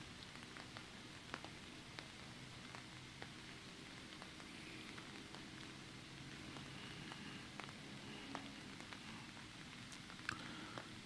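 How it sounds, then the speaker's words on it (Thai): Steady rain falling at night outside a temple, heard as a faint, continuous hiss scattered with soft drip ticks, distant and quiet, with no talking. "ฝนไม่หยุดเลยเน"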